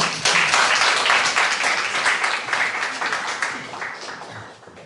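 An audience at a university seminar applauds a discussant as he is introduced, with brisk clapping in a room that swells at first and then gradually thins and fades toward the end.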